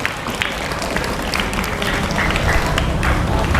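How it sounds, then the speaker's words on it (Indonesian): An audience claps together for a participant at a Quran recitation gathering (Tadarus Al Kahfi), a dense, steady patter of applause that holds through the clip with some murmuring mixed in. "kita beri tepuk tangan untuk Mas Kafa"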